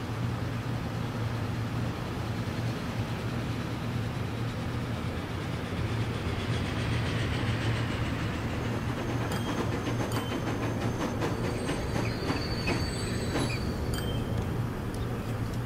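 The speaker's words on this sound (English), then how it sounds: "There's the other train coming in" A train pulls into a station in the Transport Fever 2 video game, a steady low rumble with faint rhythmic clicking and a thin high squeal of wheels, continuous and even with no talk.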